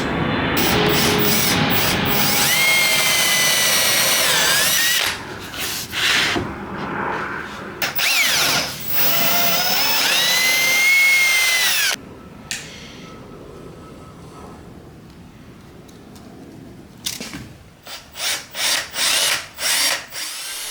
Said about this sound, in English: now I'm just going to drill some holes for this